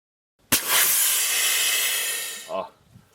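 Residual LPG gas hisses loudly from a car's gas line while it is opened to change the filter, a sudden steady rush lasting about two seconds before stopping with a short knock.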